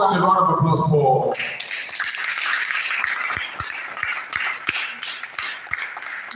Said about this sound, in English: one more time, a round of applause for